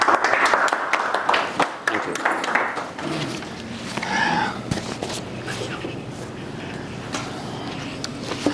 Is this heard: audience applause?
yes